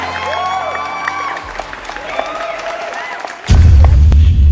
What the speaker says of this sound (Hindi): सभी उनके लिए जोरदार से तालियां बजाएं